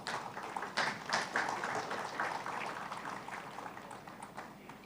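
A hall audience applauds to welcome dignitaries onto the dais at a Kerala special session, a dense burst of clapping that starts strong and slowly thins and fades over several seconds.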